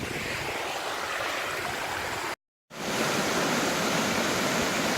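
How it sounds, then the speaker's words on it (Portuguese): A waterfall roars as a steady broadband rush of water, loud and constant, with a brief moment of silence partway through and no voices. "Foi essa view aqui, essa cachoeira aqui que o Dan falou que é bem mais bonito do que"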